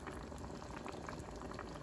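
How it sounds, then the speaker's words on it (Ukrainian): Steady bubbling of a thick spicy pear sauce boiling in a covered pot, close and continuous with a soft hiss. "все кипить потрошечку"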